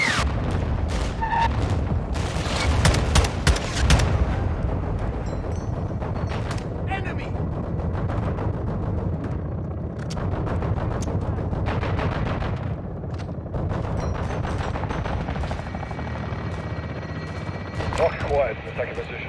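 A called-in fire strike in Call of Duty: Modern Warfare II brings dense, continuous gunfire and heavy booming blasts. Several loud bursts come early and steady rumbling barrage follows, with voices talking over the combat.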